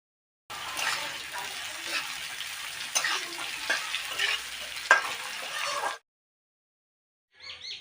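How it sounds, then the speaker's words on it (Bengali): Potatoes and kundri fry in mustard oil with a little turmeric in a pan, a loud crackling sizzle with occasional stirring clatter lasting several seconds before stopping. "আমি সরষের তেল দিয়ে ভাজা করছি।"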